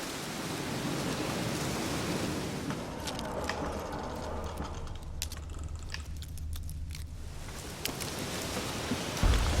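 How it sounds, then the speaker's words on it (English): Rain in The Witcher 3 falls as a dense, steady hiss of drops with a few sharp ticks and patters, fairly loud and continuous across the scene. "Looks like rain."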